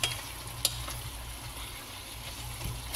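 Eggplant and vegetables sauté in a pan for a Filipino gisado with squash and chicken, giving a steady low sizzle and frying hiss with a few faint stirring clinks, close and alone.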